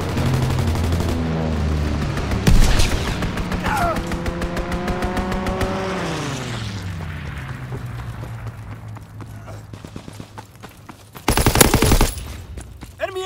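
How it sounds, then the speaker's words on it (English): Anti-aircraft fire from the World War II shooter Call of Duty: WWII: rapid bursts of heavy gunfire and sharp blasts, with engine drone and a descending whine mid-clip, then a loud late burst of fire. "Anti-aircraft fire."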